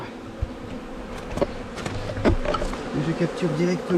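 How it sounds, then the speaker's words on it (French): A freshly captured swarm of bees hums around a beehive, with individual bees droning close by and passing overhead. Layered buzzing tones rise and fall over a steady background, with faint human sounds mixed in. "deuxième essaim que je capture directement"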